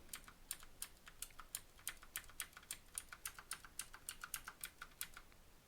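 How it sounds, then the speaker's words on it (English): Computer keyboard typing during a Sokoban puzzle game session: a quiet, close, regular run of crisp clicking keystrokes, about three per second, alone against a soft background hiss. "some of you might just enjoy listening to the click-click of the keyboard going on"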